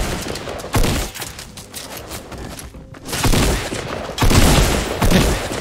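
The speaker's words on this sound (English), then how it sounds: "That guy needed so many shots to kill." Loud, dense gunfire in the video game Fortnite, rapid bursts of shots with thuds and booms running almost continuously, close and harsh, with a brief lull near the middle.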